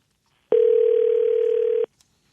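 A telephone gives a single steady electronic tone that lasts just over a second, then cuts off abruptly, with no key beeps heard around it.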